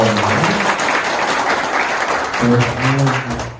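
A ceremony crowd applauds a speaker with loud, dense clapping close by, and voices call out over the clapping partway through before it tapers off.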